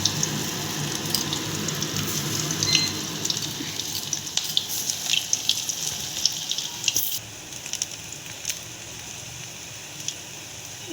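Jackfruit kofta balls deep-frying in hot oil give off a steady, dense hiss and crackle that runs without a break and stays fairly loud and close.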